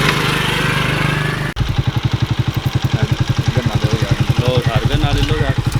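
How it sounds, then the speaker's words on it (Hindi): A motorcycle chugs along a rough forest road with a pulsing, regular engine beat that rattles close by after an abrupt start, with a voice speaking over it. "मेरे पीछे एक बाइक आ रही है"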